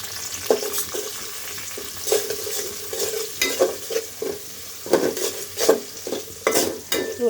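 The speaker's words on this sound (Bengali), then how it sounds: "রসুন, তেজপাতা, আমি এখন রসুন আর তেজপাতাটা দিয়ে দিলাম।" Garlic and bay leaves sizzle in hot oil in a pan, with a constant close frying hiss punctuated by repeated scraping stirs and light clinks of a utensil against the pan; no one speaks.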